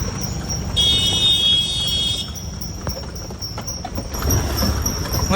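Steady rhythmic hoof clip-clop of a horse-drawn cart under continuous rumbling road noise, with a brief high whine partway through.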